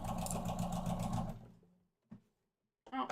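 A sewing machine runs in a fast, steady stitching burst for about a second and a half, then winds down and stops, followed by a brief click and a final short burst.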